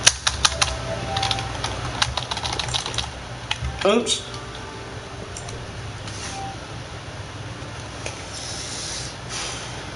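Fast, clattering keystrokes on a computer keyboard, dense at first, then sparser clicks, with a brief spoken word mixed in.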